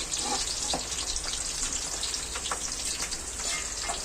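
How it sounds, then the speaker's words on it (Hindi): Okra frying in hot oil for a masala bhindi dish, a steady close sizzle with soft bubbling and a few faint utensil touches, no talking. "इसको हम हल्का गुलाबी ही भूनेंगे तेल में।"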